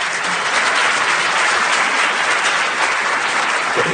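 A lecture audience claps steadily and warmly to welcome speaker Chris Masterjohn, a dense, even wash of many hands with no voices above it.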